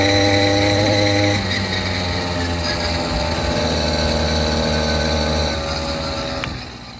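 A motorized bicycle's small engine runs with engine braking engaged on a steep bend, making a loud, close, steady drone with a strong hum that eases off near the end.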